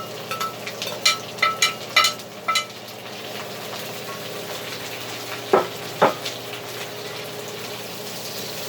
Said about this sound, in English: We'll put the onions and the garlic in.